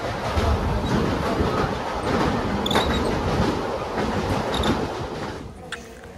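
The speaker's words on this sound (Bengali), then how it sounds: "আমাদের ট্রেন চলে এলো।" A passenger train from Adra to Asansol pulls into the station with steady wheel rumble and clatter, and brief squeals cut through it before the noise eases off at the end.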